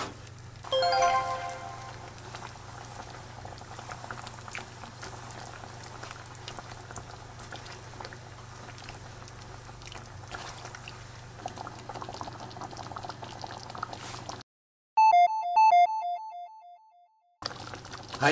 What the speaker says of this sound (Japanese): ルーをしっかりとね、溶かしながら、とろみがつくまで5分ほど煮込んでください